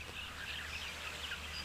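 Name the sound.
southern masked weavers singing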